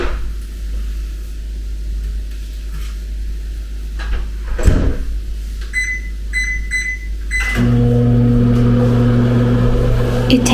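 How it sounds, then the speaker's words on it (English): A kitchen microwave oven hums steadily for several seconds, a door-like clunk breaks in midway, then a series of short electronic beeps sounds and a louder, lower drone carries on close by. "microwave it for 2 minutes and then take it out, stir it, and microwave it for a minute"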